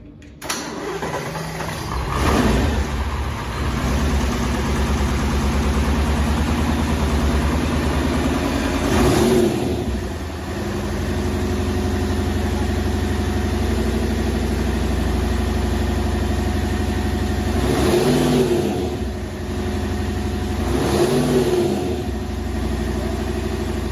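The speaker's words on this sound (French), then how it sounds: "Donc on va mettre un moteur ici, Dodge, un V10 en route." A Dodge V10 engine in an agricultural equipment setting cranks and starts, then runs with a steady loud rumble, with several revs rising and falling partway through; no talking.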